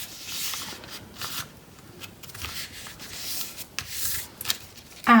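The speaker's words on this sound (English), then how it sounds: "And flip over and fold this side down." Paper being folded and creased by hand for a paper bee puppet craft, giving soft, continuous rustling and rubbing strokes with brief sharper crinkles, close up and moderately quiet, with no talking.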